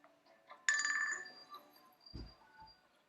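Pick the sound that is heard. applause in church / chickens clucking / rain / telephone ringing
telephone ringing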